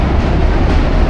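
A subway train rumbles across the Manhattan Bridge in New York, a loud, steady low roar with dense rattling that fills the whole moment without a break.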